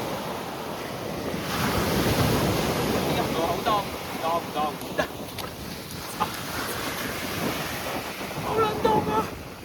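Waves wash onto the shoreline of Busan's Haeundae beach in the early morning, a steady broadband surf roar with gusts of wind buffeting the microphone and a few faint background sounds.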